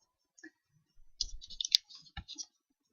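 Quiet computer mouse clicks in a spreadsheet program, a short scatter of crisp taps with a couple of sharper clicks, close and alone.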